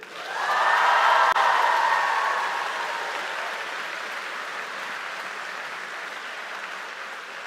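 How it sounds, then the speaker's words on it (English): Welcoming audience applause for the Madrid campus at a class-of-2028/29 welcome event, a dense, loud wash of clapping that swells quickly, peaks, then slowly thins and fades over several seconds. "can we give our peers a big round of applause for Madrid?"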